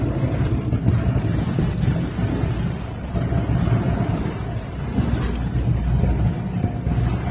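A car cruising in fourth gear on the elevated Jakarta–Cikampek toll road, heard from inside: a steady, loud rumble of engine and tyres with buffeting wind noise throughout and no talking.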